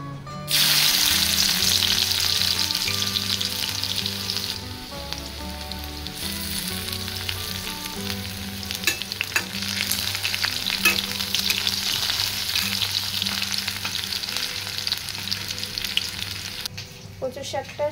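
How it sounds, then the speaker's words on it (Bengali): Black cumin seeds, green chillies and garlic sizzle in hot oil for a Bengali taro-leaf dish, a loud, steady frying crackle with stirring throughout and faint background music, no talking. "কালো জিরা, কাঁচা লঙ্কা আর একটু রসুন ফোড়ন দিয়ে দিই।"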